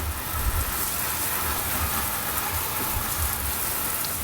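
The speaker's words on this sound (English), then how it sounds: "It started to dry off a bit, so we should hose off the excess." A garden hose sprays water across a wooden deck being cleaned, a loud, continuous close hiss of spray with no pauses.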